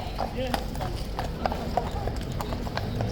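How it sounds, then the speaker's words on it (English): Hooves of two King's Guard horses at Horse Guards clip-clop in steady, close, distinct strikes, while a person talks over them throughout. "It is 2 more horses."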